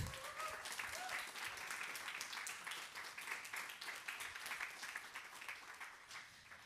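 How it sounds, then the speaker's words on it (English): A crowd at a queer Pride talk event breaks into applause, a dense, continuous patter of many hands that carries on steadily at low, slightly distant volume, with faint voices mixed in. "Please, a big applause for Aurélien."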